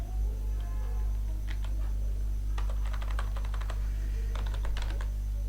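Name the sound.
typing code on a computer keyboard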